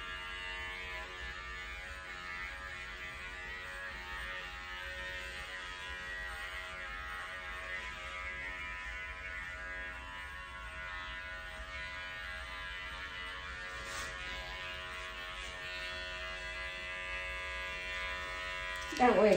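Electric clippers with a four blade buzz steadily as they trim a Schnauzer's coat, a continuous close-up drone under a speaking voice.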